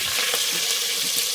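Garlic frying in a pan for vaseti bhaji, a dense, even hiss of sizzling oil, close and continuous with no talk.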